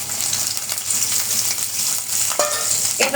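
Onions hit a little hot oil in a kadai, giving a steady close sizzle with a couple of sharp clinks and a brief scrape toward the end.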